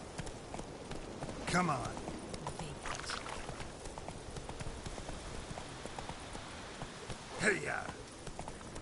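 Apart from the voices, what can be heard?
hoofbeats of Geralt's horse Roach, from the video game The Witcher III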